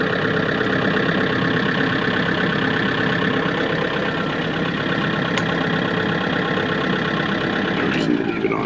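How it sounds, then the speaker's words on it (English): A 25 kilowatt three-phase diesel generator runs in a steady, fairly quiet drone that holds an even level throughout, with a faint brief click near the end. "So yeah, badass 25 kilowatt generator. Does 3-phase."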